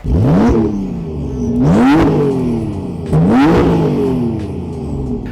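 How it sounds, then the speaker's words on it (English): A Porsche 992 Turbo S engine with aftermarket turbos and intercooler revs hard three times, each burst rising sharply in pitch then falling back to a rumbling idle, loud and close. "I haven't shown you how the exhaust sounds, so let's start it up and see how it sounds."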